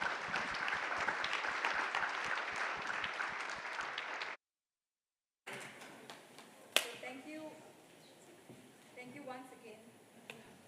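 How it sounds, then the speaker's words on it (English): Audience gives a round of applause for panelists at a conference, steady dense clapping for about four seconds that cuts off abruptly, followed by quieter room sound with a sharp knock. "Can everybody please join me in giving a round of applause to our panelists?"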